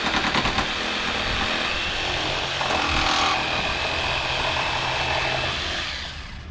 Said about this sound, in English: He's trimming the fourth shelf.